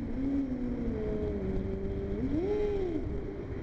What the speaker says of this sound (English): I always like to pull my bike in to neutral and rev the engine just because I love the sound of the reverb